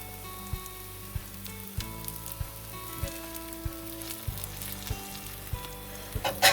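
A McGriddle-style pancake with maple syrup sizzles in a pan, a steady frying hiss broken by regular soft scraping and tapping from a spatula, close and alone.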